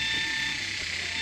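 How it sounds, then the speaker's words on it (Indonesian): A steady, shrill electric buzz of cicadas fills a forest in Central Kalimantan without pause, dense and continuous, with faint low rumbles beneath. "Enggak, itu penggeret."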